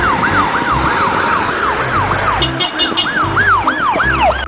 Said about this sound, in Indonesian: lihat, ini mobil ambulan teman-teman